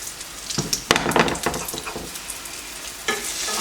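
Pancake batter sizzles and fries in a pan for a diabetes-friendly breakfast, a steady hiss with scraping and stirring clatters, a sharp spatula knock near the start and another toward the end, close and moderately loud.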